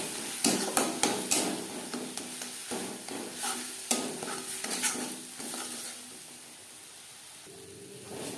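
Spices with turmeric and salt fry in a pan with a steady sizzle, broken by repeated clinks and scrapes of a utensil stirring against the metal, close by and fairly quiet, with no talking.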